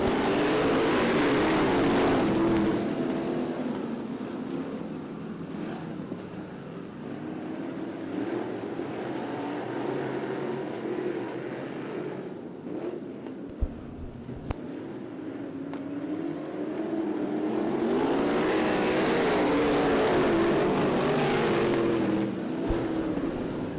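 Top Gun sprint cars restarting on an oval track, a loud roaring pack of engines sweeping past close by, fading into a distant drone, then rising again as the field comes around the next lap.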